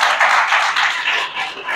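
An audience applauds at a graduation ceremony for Sénégal Talents Campus learners, a steady dense wash of clapping sustained throughout, with faint voices mixed in.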